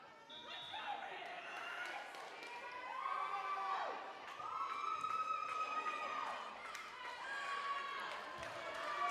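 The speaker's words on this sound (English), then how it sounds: "Crowd is into it here at the gym." A crowd cheering at a girls' high school volleyball game in a gym: a faint, steady roar of voices swelling in waves, with sharp shoe squeaks cutting through and a voice talking over it.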